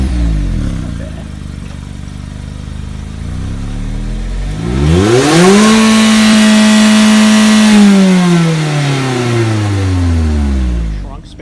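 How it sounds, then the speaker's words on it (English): A 2017 Mazda Miata RF four-cylinder with Skyactiv technology starts cold and idles at an elevated hum, then revs up, holds high briefly and settles back down, the exhaust loud and close, with a voice heard at times. "gonna get a little cold start and exhaust"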